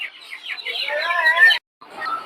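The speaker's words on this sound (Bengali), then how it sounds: "দর্শক এখন যে মুরগিটা দেখতে পাচ্ছেন এটা হচ্ছে টাইগার মুরগি এটা হচ্ছে মোরগ আর ওই পাশে হচ্ছে মুরগি" Chickens and a rooster at the Tongi poultry market, including tiger-breed birds, give a loud burst of close clucking and squawks that stops abruptly, followed by a brief softer call.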